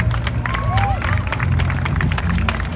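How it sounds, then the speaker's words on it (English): A street performance crowd applauding and cheering outdoors, dense, continuous clapping mixed with shouts and crowd chatter, loud and sustained throughout. "Let's welcome them to the stage to a thunderous round of applause."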